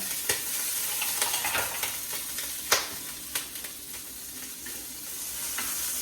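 Breakfast wrap filling sizzles and browns in a pan, steady frying hiss punctuated by repeated spatula scrapes and taps as it is stirred, no talk.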